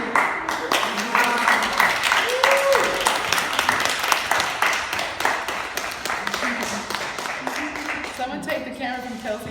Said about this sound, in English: stand up so we can applaud you